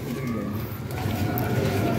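Red-eyed pigeons in a loft give soft, low cooing, close by and steady over a faint background.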